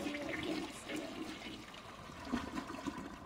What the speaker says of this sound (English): They didn't even animate the flush.